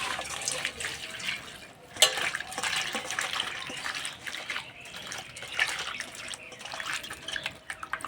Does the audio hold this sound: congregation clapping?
no